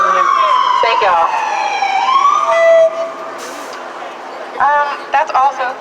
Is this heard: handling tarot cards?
no